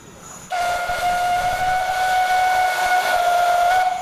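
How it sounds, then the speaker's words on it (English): Steam whistle of a Märklin LGP model steam locomotive, played indoors: one steady, close, fairly loud whistle tone that starts abruptly and holds for about three and a half seconds. "the small whistle on the LGP model sounds a bit more impressive indoors"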